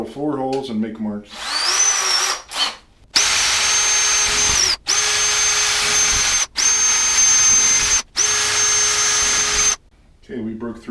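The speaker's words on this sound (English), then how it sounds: "Now I'm going to drill 4 holes and make marks." Several holes are drilled into a wall for a surface-mount medicine cabinet, the power drill whining loud and close in four long steady runs separated by brief pauses, with a little talk at the start and end.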